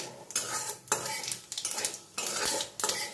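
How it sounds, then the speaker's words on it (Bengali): Dry red chillies and cumin seeds are stirred in leftover fish-frying oil, with repeated metal spatula scrapes against the pan in uneven bursts over a soft sizzle, close and without speech. "মাছ ভাজার তেলের মধ্যেই সবার প্রথমে শুকনো লঙ্কা ও জিরেটা আমি ফোড়ন দিয়ে দিই"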